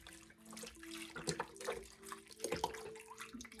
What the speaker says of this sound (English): Now I'm gonna add some broth to it.